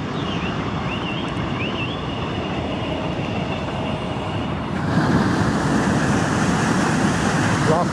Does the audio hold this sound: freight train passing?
yes